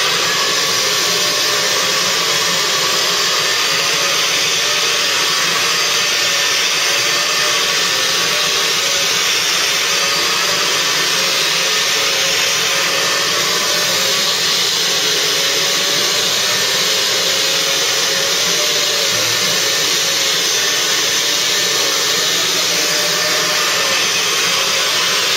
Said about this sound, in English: I'm just going to do a little bit more vacuuming to make sure that I've gotten as much of the dry dirt out as possible.